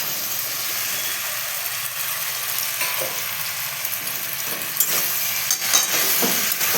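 Pasta tossed into a pan with tomato fries in a loud, steady sizzle, with scraping stirs and a few clinks toward the end, no voices.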